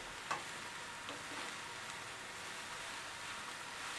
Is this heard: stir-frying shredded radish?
yes